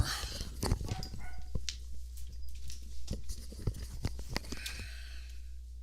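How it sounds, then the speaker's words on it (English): A dog barks faintly in the background at a college ultimate frisbee tournament game, with scattered short barks and thumps under a low steady hum. "Damn dog in the background."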